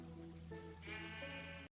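A Minecraft sheep bleats in steady, nasal, wavering calls that rise in pitch partway through, close and alone against a faint background, then cut off abruptly.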